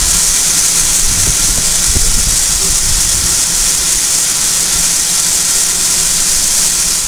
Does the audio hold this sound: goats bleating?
no